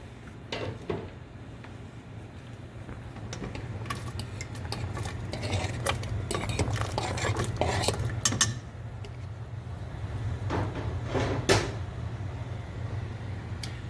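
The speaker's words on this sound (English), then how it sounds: "after 3 minutes, I put in the potatoes" Vegetables, potatoes and carrots, dropped into a pot for a Belgian Gentse waterzooi stew, giving scattered soft thuds and clinks of pot and utensils over a steady low kitchen hum, with no talking.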